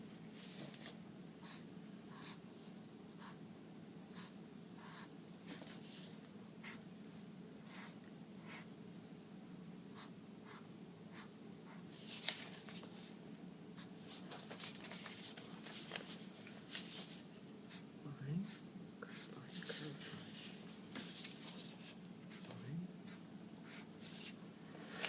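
A pen scratches out short strokes and curved lines on paper while a flower wreath is being drawn, soft and close, with steady repeated scratches against a faint room hum.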